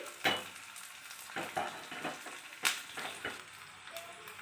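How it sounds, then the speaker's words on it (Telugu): Dried red chillies, curry leaves and garlic cloves with onions tempering in hot oil for Andhra-style ulavacharu, a soft crackling sizzle broken by several sharp spoon scrapes and knocks against the pan. "మూడు ఎండుమిర్చి కొద్దిగా కరివేపాకు అలాగే మూడు వెల్లుల్లి రెబ్బలు వేసుకొని బాగా కలుపుకోవాలి"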